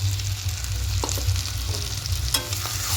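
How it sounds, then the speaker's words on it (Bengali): Chicken sautés on high heat with a yogurt paste in a pan, a steady loud sizzle broken by scraping stirs and utensil clicks close by. "দিয়ে খুব ভালো করে মিশিয়ে নেব। আবার একটু কষিয়ে নেব।"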